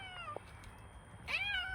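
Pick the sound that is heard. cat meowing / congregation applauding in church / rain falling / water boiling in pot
cat meowing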